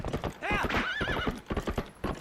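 Horse in The Legend of Zelda: Twilight Princess clip-clopping at a run with a loud whinny and neigh partway through, the hoofbeats steady and close throughout.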